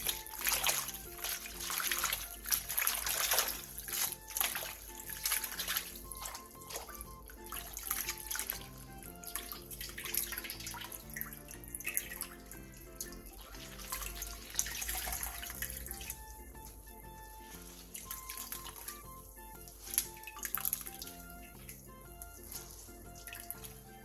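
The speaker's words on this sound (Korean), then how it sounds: "데친 시금치는 찬물에 헹군 뒤 물기를 짜주세요." Cold running water pours over blanched spinach as it is rinsed for a Korean namul side dish, a steady tap stream with splashing and trickling, close and continuous with no talk.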